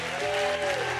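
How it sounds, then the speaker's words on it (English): A church congregation claps together in a brief, dense burst of applause, steady and fairly loud, lasting about a second with no talking. "give them a hand clap"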